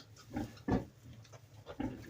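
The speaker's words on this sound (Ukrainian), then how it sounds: "Свинка не агресивна, пороситься тихо." Quiet, low grunts come from a sow during farrowing in a straw-bedded pen, three or four short oinks close by, the middle one loudest, with no talking.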